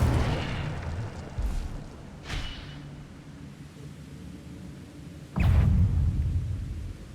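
In Hogwarts Legacy, the Incendio fire spell erupts several times as a series of booming whooshes, the last and loudest near the end, over a constant low roar of combat.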